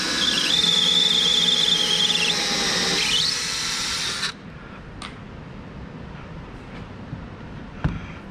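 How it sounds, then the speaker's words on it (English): A power drill bores pilot holes in cedar wood for a small chest bottom, a loud steady whine with a rising squeal for about four seconds, then stopping, leaving faint clicks and one sharp knock near the end. "I'm gonna drill a pilot hole in two different spots"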